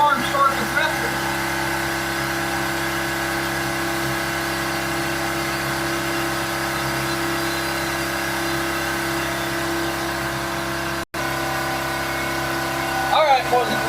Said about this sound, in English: it's a brand new air compressor.